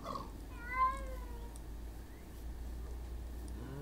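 Minecraft cats meow in a series of short, clear mewing calls near the start, then fade into a steady low game hum with no talking.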